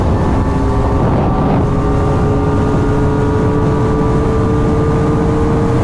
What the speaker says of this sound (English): The motorcycle is not even kind of buzzy.